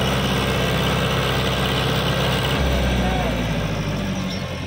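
A tractor engine roars continuously at a tractor pulling contest, a loud heavy diesel drone with steady vibration throughout, with people talking over it.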